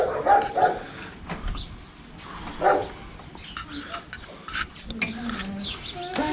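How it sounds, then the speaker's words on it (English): Several dogs bark and yip in bursts, fairly close, with some voices in the background and a whimper here and there. "See if you can get past the dogs."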